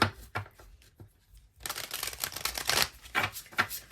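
Tarot cards shuffled and drawn in quick rustling, flicking bursts, close and soft at first, then a denser run of riffling slaps.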